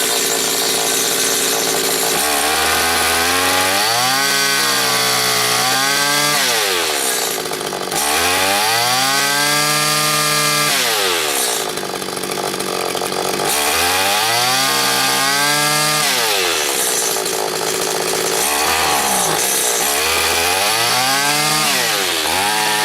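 A Stihl FS80 string trimmer, its carburetor just adjusted and still running rough, revs loudly up and down in repeated surging cycles, the engine pitch climbing and falling over and over without speech.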